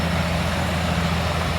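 A car engine idles in the open on a freezing night around minus 26 degrees, a steady low rumble with a faint hiss and no talk.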